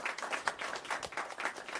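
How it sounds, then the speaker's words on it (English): Small crowd at a student journalism chapter event applauding, quiet, scattered claps with uneven rhythm over a short stretch, heard from a distance. "So a round of applause for all the efforts that are going on here"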